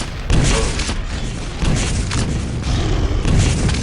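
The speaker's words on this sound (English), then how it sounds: "Some nice direct rocket from the guy." Rocket launcher blasts in the arena shooter Quake Live, a rapid series of loud, dense booming explosions crowding one another across a few seconds with no pauses.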